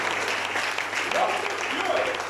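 A church congregation applauds in a short burst of steady clapping, the sound of a crowd filling the room while voices carry over it.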